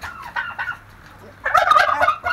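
Turkeys on a farm gobble in short bursts, a few scattered calls followed by a loud, dense flurry of overlapping gobbles close by.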